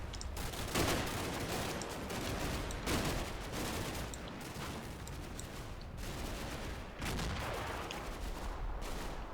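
Machine gun team firing at a building in the war game Combat Mission: Black Sea, with sustained bursts of automatic gunfire rattling in repeated volleys at moderate, slightly distant volume and no talking.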